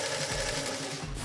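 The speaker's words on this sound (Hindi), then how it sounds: "सिलाई मशीन को चालू करते हैं" A sewing machine runs at a steady whirring hum, close and loud, with its motor dropping off near the end and no talking over it.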